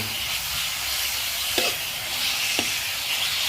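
Continuous loud sizzling and hissing from a hot pan stir-frying ginger and chicken, with a couple of brief clanks of a utensil stirring.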